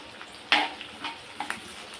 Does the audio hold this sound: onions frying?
yes